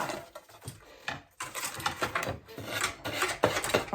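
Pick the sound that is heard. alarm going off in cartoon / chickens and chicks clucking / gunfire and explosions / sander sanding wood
sander sanding wood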